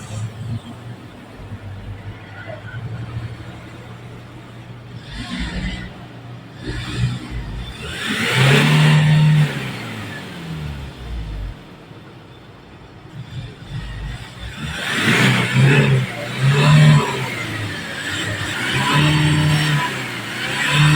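A 2018 Kia K2500 with a D4CB diesel engine, smoky exhaust and low power, idles with a rough, low rumble and is revved twice in strong, rising bursts that fade back to idle.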